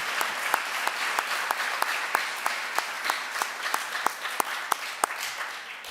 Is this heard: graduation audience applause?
yes